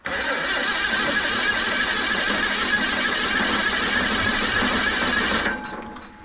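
A chainsaw mill engine is pull-started but fails to fire: a loud, steady rasping whir runs for about five seconds, then cuts off abruptly and fades into quiet.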